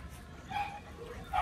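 A male pit bull with a very large head gives short yipping barks and whimpers, fairly faint and close, with no talk over them.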